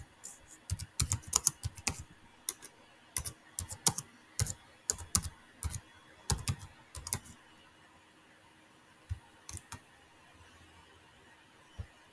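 Computer keyboard typing: bursts of quick, close key clicks in irregular runs for about seven seconds, then a few isolated taps after a pause, with no talking.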